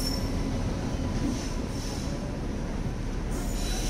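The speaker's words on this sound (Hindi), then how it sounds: "और ये हमारी ट्रेन" The Mumbai–Amritsar express rolls along a platform at New Delhi railway station, giving a steady, loud rumble of wheels and carriages with a faint high metallic rail whine throughout and no talking.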